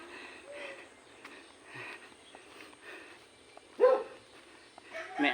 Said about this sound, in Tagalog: May aso mga kapikit.